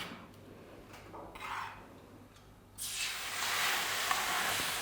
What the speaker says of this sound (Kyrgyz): Эми унубузга суу куябыз.